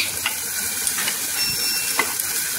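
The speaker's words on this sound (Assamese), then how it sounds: "এবাৰ ভাজিটো ব্ৰকলি ভাজিটো চাই দিওঁ কি হৈছেগে" Broccoli frying in a pan gives a dense, steady sizzle, close and loud throughout, with a few faint stirring scrapes and taps breaking through at intervals and no talking.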